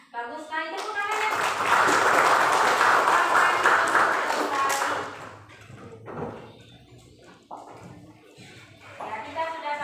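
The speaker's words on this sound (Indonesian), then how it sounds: "Bagus sekali tepuk tangannya." Classroom applause from students after a group presentation, a dense burst of clapping for about five seconds that fades into scattered claps under a teacher's voice and children's chatter.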